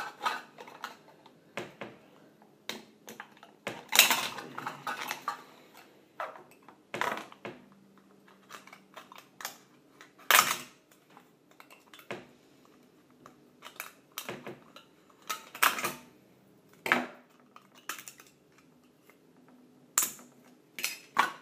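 A tin can having its top cut off, with scattered sharp metallic snips, clicks and scrapes at irregular intervals, close and fairly quiet between the bursts.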